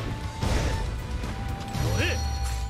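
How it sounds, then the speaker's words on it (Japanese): A heavy castle gate in Samurai Warriors 5 grinds and clanks open amid a busy battle scene, with ratcheting mechanical creaks and a crash layered over music and effects. "開門。"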